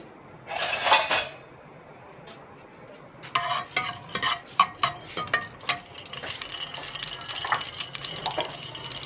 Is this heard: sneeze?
no